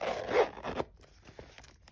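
Zipper closing on a Dior Saddle double pouch, a quick close rasping pull followed by fainter small clicks and handling sounds, with no talking.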